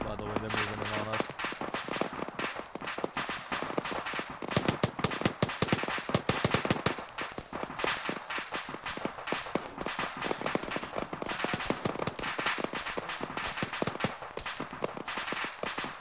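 Gunfire and tracer fire crackle through a military video game battle at an airport hangar, with dense, irregular bursts of sharp distant and mid-range shots continuing throughout, and voices talking over them at times.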